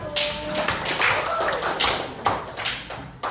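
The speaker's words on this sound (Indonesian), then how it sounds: "Beri tepuk tangan untuk kelompok 1" A group claps for a team during a practical class session, a handful of sharp, uneven handclaps ringing out close by over a few seconds, with a faint voice in the background.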